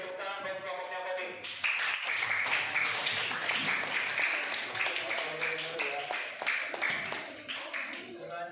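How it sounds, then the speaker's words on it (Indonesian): Classroom audience clapping for a group that has just presented, brief speech at the start, then a burst of lively many-handed applause that swells and slowly tapers, with individual claps standing out. "Tepuk tangan buat kelompoknya tadi."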